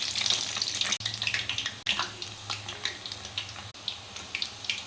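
Ragi murukulu dough hisses and bubbles in hot oil. The frying makes a continuous crackling sizzle with small popping bursts, heard alone with no talk.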